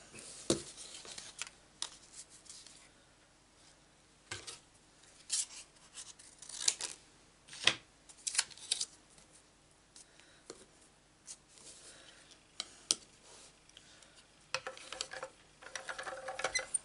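Scissors snip through a white piece of card, several crisp separate cuts spaced irregularly across a quiet room, with small rustles and handling noises between them.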